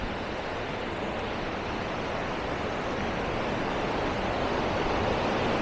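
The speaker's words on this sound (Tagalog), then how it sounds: "malakas yung agos ng tubig" Strong rushing river water at Madungan Dam roars steadily and loudly, a dense broadband wash without breaks or voices.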